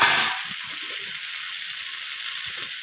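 Potatoes sautéed with spices, freshly added green chilies and coriander leaves give a steady, bright sizzle in a pan, with a few soft low knocks of stirring early on and no voices.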